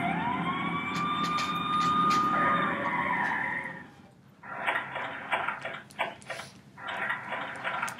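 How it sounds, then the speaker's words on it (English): A European ambulance siren wails in loud sweeping tones for about four seconds, then gives way to busier mixed traffic and vehicle noise. "this is European ambulance"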